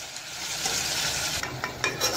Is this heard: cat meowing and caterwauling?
no